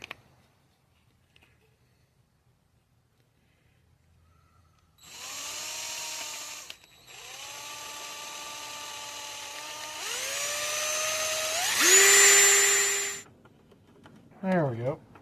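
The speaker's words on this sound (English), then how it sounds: "I just went and found a drill bit. Got in my drill here. And we'll just drill this out a spot here." An electric drill bores a notch in the interior of a Sierra, whining in several bursts that rise in pitch as the motor spins up, the last run loudest, then a brief rasp at the end.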